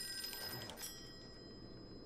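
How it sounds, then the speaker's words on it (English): A telephone rings in the Call of Cthulhu video game, a few quick bell-like trills early on that are faint and thin, then fading into quiet room tone. "Ooh, the phone."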